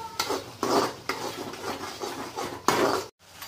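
Chole being stirred in a pan with ginger-garlic paste over low heat, a series of quick scraping and knocking spoon strokes against the metal, close and moderately quiet.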